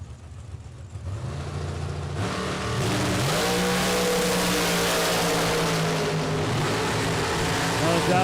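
Drag racing cars, a Copo-powered Shorty and a dragster, idling low before a sudden loud launch into a sustained, rising roar of engines that stays loud and close to the end, with an announcer's voice partly under it.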